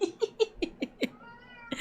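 A pet cat meows repeatedly, about six short close-up calls in quick succession, then a brief pause and one more meow at the end, with no talking over it.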